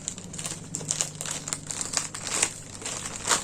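Crinkly plastic packaging around a Diamond Art Club canvas being unwrapped indoors at a table, with steady close crumpling and rustling and a few sharper crackles throughout.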